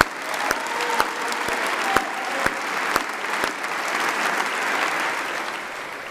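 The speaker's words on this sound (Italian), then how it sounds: "Un grande applauso." Sustained applause from a large audience honoring the Italian national football team at Palazzo Chigi in Rome, dense steady clapping with a few sharper claps standing out, holding at an even level throughout.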